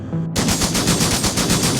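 Rapid machine gun fire as a barrage sound effect in a robot battle scene, a loud continuous burst of evenly spaced shots starting abruptly after a brief silence.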